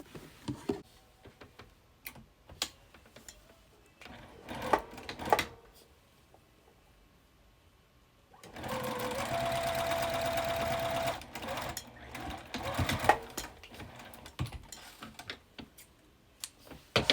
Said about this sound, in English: now I'm going to sew down this line here